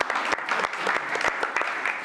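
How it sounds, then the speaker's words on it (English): Brisk applause at a city commission meeting honoring beautification award winners, a smaller room of people clapping with distinct individual claps audible, close and fairly loud, sustained for the whole stretch. "a round of applause again for our Beautification Award winners"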